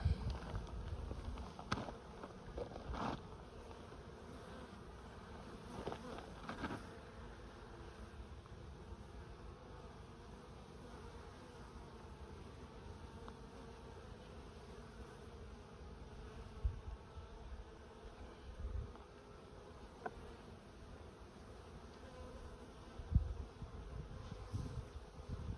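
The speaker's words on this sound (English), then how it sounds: "Bees getting ready to jump out." Honey bees hum steadily around an open hive full of capped honey and brood during a hive check, a continuous close buzz with occasional brief knocks and thumps from handling the frames.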